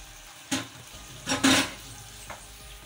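White karahi sizzles in a pan as yogurt is stirred in, with three scraping, frying bursts over a low background sizzle and no voices.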